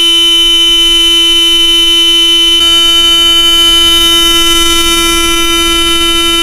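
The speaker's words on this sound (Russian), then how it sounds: "заклинило клаксон." A crashed Solaris taxi sitting against a pole after a collision blares a jammed car horn, a loud unbroken tonal honk that holds for the whole stretch and swells partway through, with no voices.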